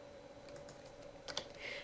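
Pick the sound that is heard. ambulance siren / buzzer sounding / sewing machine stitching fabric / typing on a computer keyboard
typing on a computer keyboard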